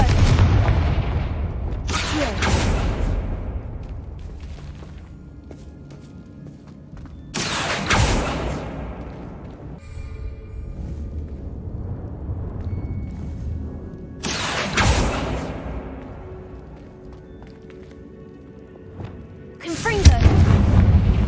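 Confringo explosive spells in Hogwarts Legacy go off as four heavy booming blasts spaced several seconds apart. Each blast leaves a low rumbling tail before the next one lands.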